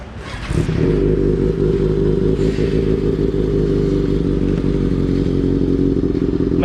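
A 2020 Kawasaki ZX6R motorcycle engine runs loud and close, a steady throbbing drone with clattering mechanical noise throughout, no speech over it.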